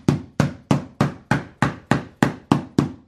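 A 12x24 laminate floor tile being tapped into place, ten evenly spaced sharp knocks in a steady rhythm, close and loud with no talking.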